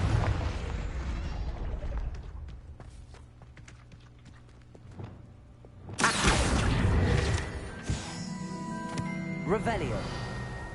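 Confringo fire spell bursting in Hogwarts Legacy: a loud, broad explosive blast erupts and rumbles on for a couple of seconds after a stretch of lower game noise, with a sharp crack following and a voice calling out spells.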